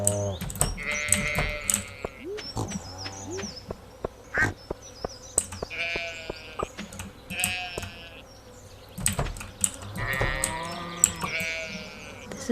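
Sheep in the Stardew Valley video game bleat repeatedly in wavering, nasal calls that overlap one another, with an insect-like buzz and scattered sharp clicks in between.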